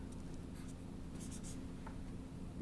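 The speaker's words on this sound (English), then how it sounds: "you can flip it over and you can write a little note" A little note being written on paper, soft scratchy pen strokes in short bursts, close but very faint against a low background hum.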